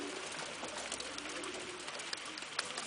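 Racing pigeons, including a blue check, cooing in a loft, a steady low murmur of soft coos with faint chirps over a noisy, continuous background.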